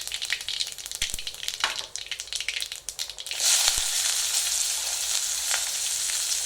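Mustard seeds, dried red chillies and asafoetida temper in hot oil for drumstick sambar, first crackling with sharp pops, then a louder, steady frying hiss that carries on to the end, nearby and unaccompanied by speech.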